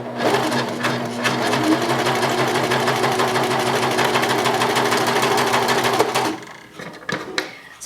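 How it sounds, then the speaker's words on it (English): Serger sewing machine stitching a seam at a steady speed, a fast continuous mechanical hum and chatter lasting about six seconds before stopping, followed by a few small clicks and handling noises. "So let's go ahead and sew this seam."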